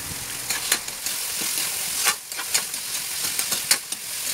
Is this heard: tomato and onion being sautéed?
yes